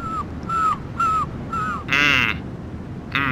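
Seagulls in the video game Sonic Adventure 2 give a run of short, repeated calls in a steady rhythm, four bright cries followed by a couple of harsher, noisier squawks over a continuous game background.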